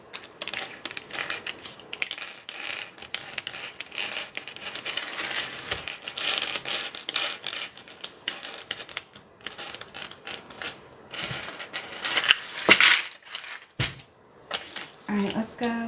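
A sewing machine stitching down the center of a zip-around wallet, making a dense, fairly quiet mechanical clatter of rapid clicks and ticks that rises and falls over about sixteen seconds.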